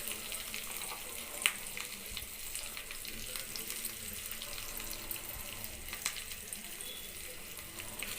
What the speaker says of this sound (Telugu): దాంట్లో పోపు దినుసులు వేసుకున్నాను. మినప్పప్పు, ఆవాలు, జీలకర్ర, కొంచెం ఇంగువ, శనగపప్పు వేసుకున్నాను.